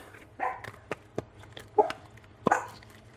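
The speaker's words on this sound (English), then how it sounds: "Excuse my dog behind me." A dog barking behind the speaker indoors, four or five sharp, separate barks spaced irregularly over a few seconds, moderately near and fairly quiet.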